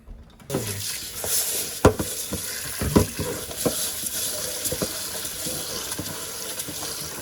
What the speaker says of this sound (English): cleaning the rice has been a part of the cooking process